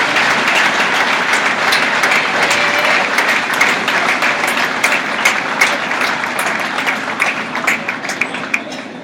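Sustained applause from an audience at an awards presentation during a livestock show event, a dense, steady wash of clapping with scattered sharper claps, holding loud throughout before easing slightly near the end.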